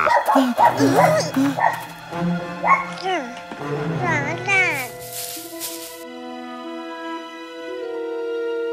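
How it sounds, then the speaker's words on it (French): A dog barks, yips and whimpers in a rapid series of high, wavering cries over the first five seconds, followed by a steady tonal hum, with speech mixed in around the cries. "tout le monde voyait un chien faisant d'horribles sons"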